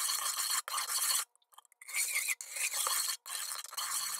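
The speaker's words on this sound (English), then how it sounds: "I'm using a spoon to mix it all" A spoon stirs milk, sugar and vanilla extract in a bowl for homemade snow ice cream, close scraping and swirling strokes in bursts separated by brief pauses.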